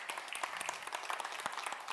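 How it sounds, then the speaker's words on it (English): An audience at a youth-innovation session of the World Food Forum applauds, a brief, faint patter of many hands clapping at a distance. "a huge applause to Carmela"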